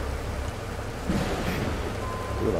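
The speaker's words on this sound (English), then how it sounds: "that was another good crack of thunder there" Thunder rumbles low during a rainstorm in a truck-driving simulation game, a deep swelling crack midway over steady rain hiss.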